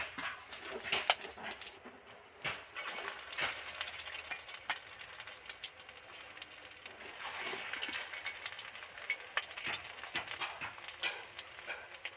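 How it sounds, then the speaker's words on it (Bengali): Potato and egg pakoras frying in oil, a continuous soft crackling sizzle with occasional stirring scrapes, heard alone at moderate distance. "একটু গুপ করে ভাজা হচ্ছে"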